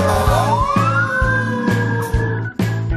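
A fire truck siren sweeps upward in a rising wail over a pulsing low engine drone, loud and close for a few seconds.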